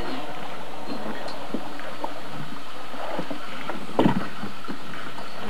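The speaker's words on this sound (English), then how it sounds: "for rowing a boat" Quiet outdoor water ambience with soft, irregular splashes and knocks of oars against a small guide boat, one louder splash near the end.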